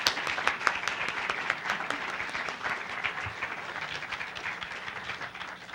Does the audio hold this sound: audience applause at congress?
yes